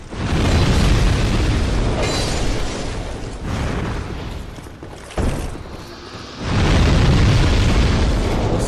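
Loud, continuous booming explosions in the video game Dark Souls 2 roll one after another in a dense rumble, briefly easing before a fresh burst of blasts.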